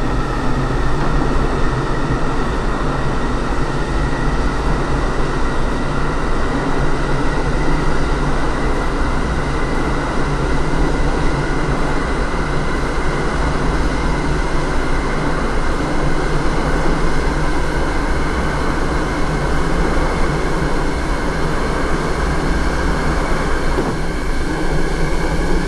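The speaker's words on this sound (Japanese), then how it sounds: "この先、電車が揺れますのでご注意ください。" JR East Keiyo Line electric train running in a train simulator game, a continuous loud rumble and hum of motors and wheels on track, steady throughout with no talk.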